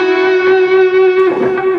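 Electric guitar with an effects unit and mild distortion: one picked note, then two smooth legato hammer-ons a step higher. The tone sustains and rings close and clear, with no voices.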